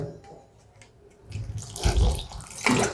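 Water is poured into rice flour and coconut dough for poya pithe, with short splashing, trickling bursts and a wet slap of mixing by hand, quiet at first and then louder.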